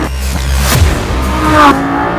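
A Lamborghini Gallardo's rear-mounted V10 revs hard nearby, its pitch climbing steadily toward a high-revving howl near its 8,500 RPM redline, with a brief clunk partway through.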